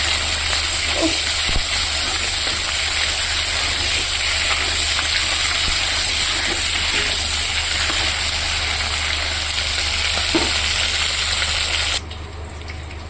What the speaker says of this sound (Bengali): চার পাঁচ পিস করে চিকেন আমি ভেজে নিচ্ছি লাল লাল করে